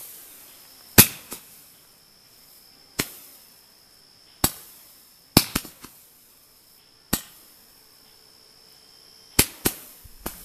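Fireworks set off at a backwoods campsite give about eight sharp, isolated cracks and pops spaced a second or two apart, several followed by quick echoing secondary bangs. The background between them is quiet.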